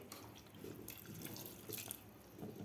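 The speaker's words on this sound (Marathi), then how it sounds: "अशा प्रकारे मी दीड ग्लास पाणी घातलेलं आहे" About one and a half glasses of water poured into a cooking pot of taro-leaf alu fadfad curry with tamarind, a continuous close splashing trickle, fairly quiet, with no voices.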